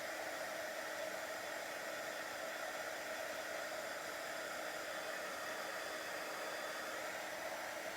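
A hair dryer blows steadily on a Christmas tree and tag craft project, a constant airy whoosh at moderate level with no talking.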